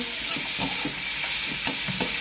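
Browned onion and chopped tomato fry in a pan, a constant bright sizzle with a few soft rhythmic stirring scrapes, close and without speech.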